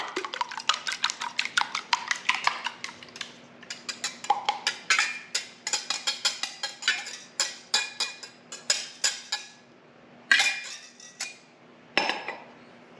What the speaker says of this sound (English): We have 3 eggs that I've put in the pan here. I wanna just break those up.